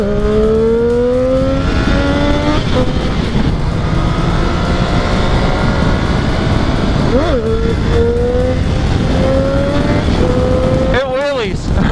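A Triumph motorcycle's engine revs loudly and close during a wheelie, its pitch rising and holding through the climb, dipping briefly, then surging again near the end.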